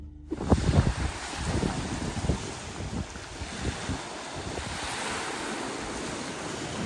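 Sea waves rolling and washing ashore nearby, with a steady roar of surf and wind buffeting the microphone.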